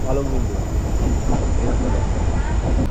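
A Dooars Vistadome tourist express train rumbles along steadily with a continuous rolling roar, heard from a general coach, close and loud, with faint voices mixed in.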